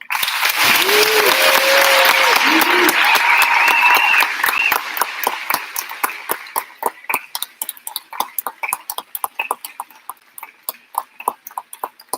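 A graduation audience applauds chorus students with loud, thick clapping at first while a few voices sound briefly underneath. It thins out after about five seconds into scattered, separate claps that fade toward the end.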